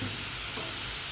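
Chili sizzles steadily in hot oil in a pan, a brief close, continuous frying hiss with no talking.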